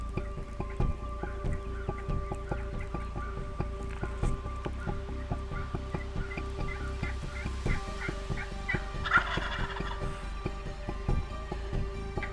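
Wild turkey gobblers gobble repeatedly in the distance during a spring hunt, several birds answering one another outdoors, with a steady low rumble underneath.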